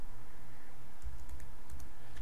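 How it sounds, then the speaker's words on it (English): Fingers type text on a computer keyboard while a t-shirt design is made in Photoshop, giving a quick run of close, crisp key clicks over a low steady hum. "Now start typing."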